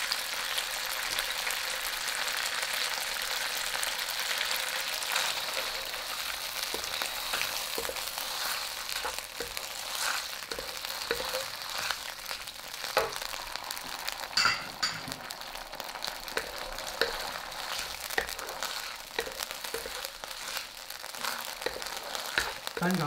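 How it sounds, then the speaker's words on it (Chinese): Shredded pork and a mixed sauce sizzle steadily in a wok, with repeated scraping and clinking of a spatula against metal as the stir-fry is tossed, all close and continuous. "这个肉已经变色熟了，这时候我们倒入刚才调好的芡汁"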